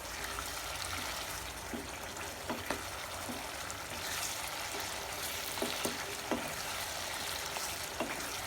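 Pork fries in a pan with sesame as its water cooks off, a soft continuous bubbling sizzle with faint pops and occasional stirring taps.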